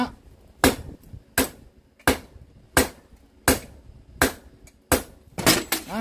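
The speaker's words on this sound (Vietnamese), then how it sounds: "Đó mình đập cái cạnh rồi nó sẽ ra cái dấu như vậy đây" Hammer blows on the edge of a broken knife blade being reworked, about nine sharp metallic strikes at a steady rhythm, close and loud, with a quick double hit near the end.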